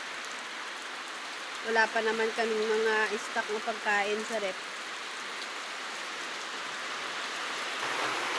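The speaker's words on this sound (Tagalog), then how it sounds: "Umuulan na naman ang lakas at medyo malakas din ang hangin." Heavy rain pours in a steady, dense hiss throughout, with strong wind during a typhoon, while a person speaks briefly over it partway through.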